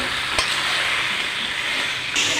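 Marinated mutton fries in a pan for mutton curry, a steady close sizzle with a faint scrape of stirring and one sharp knock near the start.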